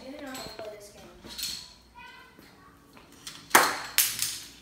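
A child stirring something in a bowl, utensils clinking against the dish in a run of faint taps that ends in a few louder knocks, with voices talking nearby.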